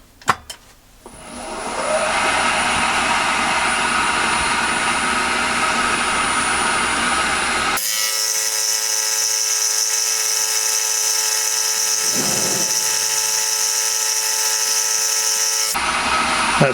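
A vertical milling machine cuts curved T-nuts on a rotary table, its motor spinning up from quiet into a loud, steady whine and grind that continues for the length of the cut, with no talking.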